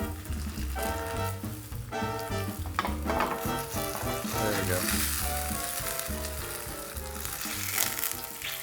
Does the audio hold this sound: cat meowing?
no